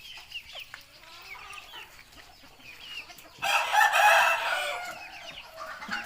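Chickens cluck and call nearby, with a louder burst of squawking in the middle, against a quiet outdoor background.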